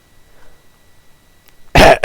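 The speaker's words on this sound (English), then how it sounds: "Sorry, I have the cough." Two sharp, loud coughs in quick succession, close to the microphone, after a stretch of near silence.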